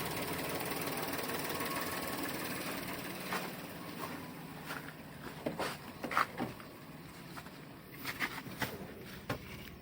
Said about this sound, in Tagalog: So normal lang ma-vibrate yung makina nito kasi 3 cylinder lang.